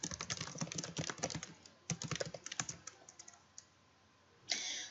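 Fingers type out a print statement on a computer keyboard, a rapid run of close, crisp key clicks in uneven bursts that thin out toward the end, followed by a short burst of broadband noise.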